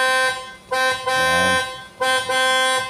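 The horn of a 2019 MG ZS blares in repeated bursts, loud and close, with short gaps between long honks.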